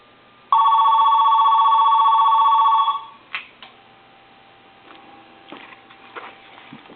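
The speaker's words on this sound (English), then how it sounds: "we're going to ring the telephone" A Mickey Mouse AT&T novelty telephone rings loudly with one continuous electronic trill for about two and a half seconds, followed by a few handling clicks and quiet clattering.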